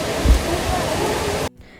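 The Courtallam waterfall sends up a loud, steady rush of falling water, heard up close without a break, until it cuts off abruptly near the end.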